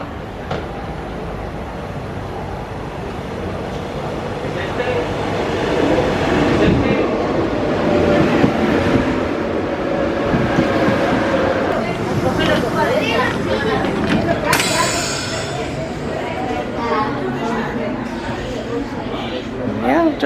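A train near Disneyland Paris pulls into the station with a loud, sustained rumble and rattle that swells and then eases, topped by a high screech near the end, while people talk over it.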